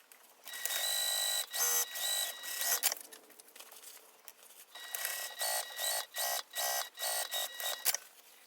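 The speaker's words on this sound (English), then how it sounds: "sew again with the seam allowance given in the pattern, and top stitch" A sewing machine runs in repeated bursts while topstitching a crossbody bag, steady mechanical whirring broken by short pauses; it sounds close and fairly loud, with no talk.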